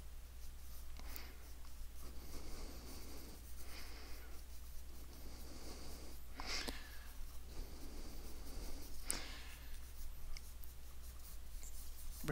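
A pencil sketches on paper in soft, close strokes, with a steady scratch broken by several quick sharper swipes, faint over a low background hum.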